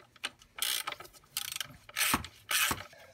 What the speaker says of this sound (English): We're making threads into aluminum, so it's not a big deal.